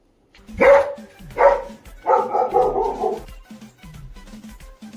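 A dog barks close by in three loud bursts, the last one longer and more drawn out, followed by quieter low grunts and yips.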